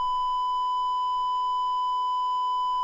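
A steady electronic beep sounds alone, a single continuous pure tone holding evenly at moderate level for a few seconds with a faint hiss beneath.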